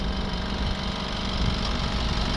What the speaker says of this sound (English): So that's the compressor there kicking on